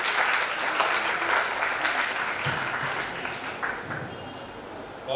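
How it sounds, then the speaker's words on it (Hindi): Steady applause from an audience at a writers' festival welcoming a storyteller to the stage, moderately loud and continuous, thinning slightly toward the end. "जोरदार तालियों में इनका स्वागत करें।"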